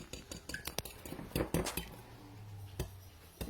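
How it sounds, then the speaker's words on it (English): Eggs whisked in a bowl by hand, giving a quick run of clinking metal taps and scrapes against the bowl, close and irregular, with no voices. "I'm going to go ahead and I'm going to whisk my eggs together."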